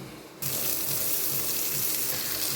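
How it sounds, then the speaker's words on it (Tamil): Onions drop into a pan of frying spices, and after a brief quiet moment a loud, dense sizzle bursts up and holds steady, close and without voices. "இப்போ நம்ம வெங்காயம் சேர்த்துக்கலாம்."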